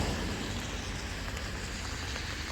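Steady rain pattering down outdoors near a vegetable plot, a dense, even hiss of drops on surfaces throughout with no voices.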